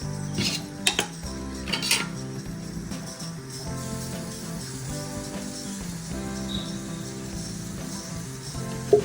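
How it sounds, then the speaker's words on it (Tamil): Metal pans and utensils clatter and scrape steadily, with a few sharper clinks, over a faint hiss of sesame or peanut oil heating in a pan for tempering spices. "நல்லெண்ணெயாவது கடலை எண்ணெயாவது ஊற்றி தாளிக்கணும்."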